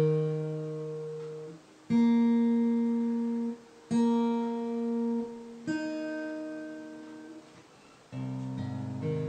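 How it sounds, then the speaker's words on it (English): A guitar in open C tuning is strummed several times, each chord left ringing and slowly fading before the next, clear and close with no talking. "if you tune your guitar correctly, it should sound like this."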